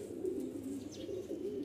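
Pigeons coo softly in a coop where paired birds have laid eggs. Low, throaty rolling calls repeat close by over a brief stretch, with no voices.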